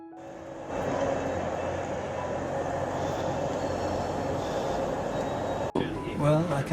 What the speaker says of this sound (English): we're on a high-speed train